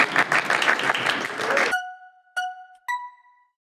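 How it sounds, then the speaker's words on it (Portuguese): Brief burst of audience clapping for a debate participant that cuts off abruptly, followed by two clear electronic chime tones ringing out in near silence. "Palmas para Cássio."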